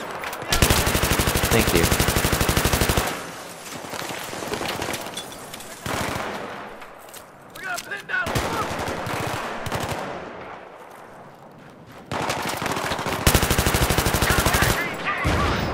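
Automatic rifle fire in the video game Battlefield 3 during a co-op mission: long loud bursts of rapid machine-gun shots, pauses with quieter rumbling action between, close and dense, with a brief spoken word.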